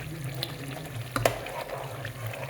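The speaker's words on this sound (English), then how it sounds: "I'm going to mix it together properly." Nigerian stew being stirred in a pot, soft wet scraping and sloshing over a low simmering hiss, with one brief clatter of the spoon against the pot near the middle.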